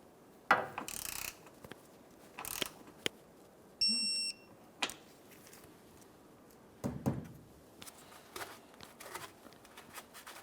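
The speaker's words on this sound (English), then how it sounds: "Torque wrench." A torque wrench tightens a bolt on a 2004-2008 Ford F-150 5.4L V8 fuel pump module, giving a run of short, sharp ratcheting clicks and knocks with a brief beep partway through.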